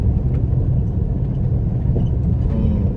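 Car driving in third gear during a driving lesson, a steady low engine rumble and road noise heard from inside the cabin, constant and fairly loud with no talk.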